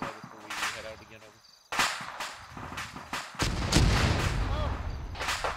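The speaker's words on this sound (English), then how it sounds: "that's fucking mortars fire on us" Mortar rounds land close by in the ArmA 3 war game, with repeated loud booms and rumbling blasts between quieter gaps, and some talk mixed in.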